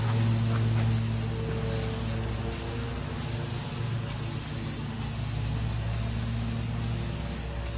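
Paint sprays steadily onto a 1952 Chevy grille and bumper, a close continuous hiss broken by brief regular pauses between passes.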